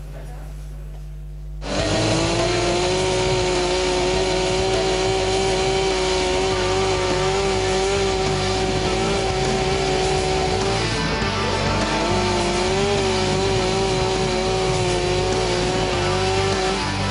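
A chainsaw starts up and runs steadily at high revs while carving a wood sculpture, loud and close, its whining pitch dipping briefly partway through before climbing again.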